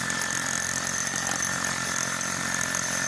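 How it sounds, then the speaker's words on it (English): A hammer drill with a core bit bores through hard material for a storm water pipe installation, a harsh, continuous grinding drone, steady and loud throughout with a high whine on top. "So you can see that drill bit coming through."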